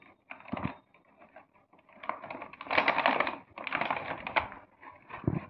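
A delivery package of Mumbai-style biryani being opened up close, with bursts of crinkly rustling and tapping clatter separated by short pauses; no voices.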